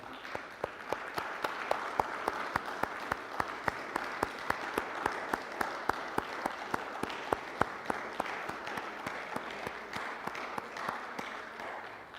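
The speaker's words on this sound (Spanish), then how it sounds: "Démosle un fuerte aplauso al Señor." Church congregation clapping loudly in unison, a steady rhythmic beat of strong claps over a bed of scattered applause, continuing evenly for the whole stretch.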